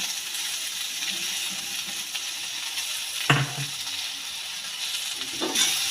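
Shrimp, green beans and potatoes stir-fried in a spiced pan give off a steady close sizzle, broken by a sharp spatula clink against the pan about halfway through and a fainter scrape near the end.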